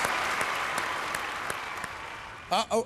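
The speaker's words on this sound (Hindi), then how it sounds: "जोरदार तालियां" Game show studio audience applause, a dense wash of clapping that fills most of the moment before a voice cuts in briefly at the end.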